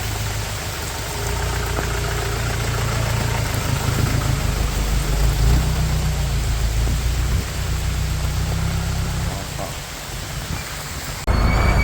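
Steady rush of wind and rain against a jeep in Coorg, with a low engine rumble underneath and a brief louder gust near the end.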